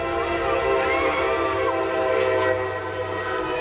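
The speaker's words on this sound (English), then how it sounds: "a Brightline train destroyed it in Miami-Dade County" High-speed Brightline passenger train in Miami-Dade County passing loudly with a sustained horn blast and heavy rumbling rail noise, steady and close throughout.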